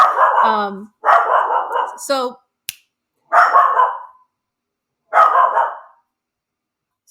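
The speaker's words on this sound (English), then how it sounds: "we don't hold back, even if there's doggies barking." A dog barks in several sharp bursts, fairly close, with a brief word spoken between barks and short silences separating them.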